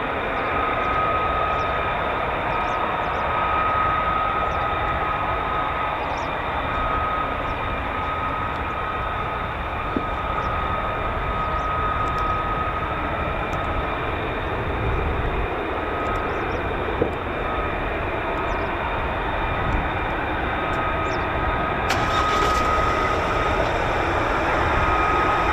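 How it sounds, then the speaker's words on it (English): An F-35 fighter jet's Pratt & Whitney F135 engine at RAF Lakenheath, a steady distant roar that holds for the whole stretch with a constant tone riding over it and no talk. "the wonderful sound of the F-135 PW100"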